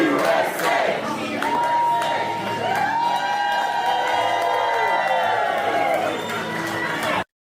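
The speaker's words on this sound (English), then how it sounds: "This is a scene at an Irish bar there in DC when everyone starts cheering at when the inauguration and the swearing in takes place." Crowd in an Irish bar in DC cheering and whooping loudly at a presidential inauguration swearing-in, a dense sustained roar of many voices with shouts rising over it before cutting off abruptly.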